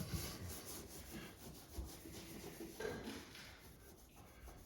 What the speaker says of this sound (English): You want to kind of rub on both sides of the grout.